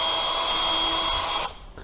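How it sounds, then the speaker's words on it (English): Close, whining power drill pre-drilling screw holes through a flooring transition bracket, a steady high motor buzz for about a second and a half before cutting off abruptly into quiet. "We'll go ahead and pre-drill through the holes."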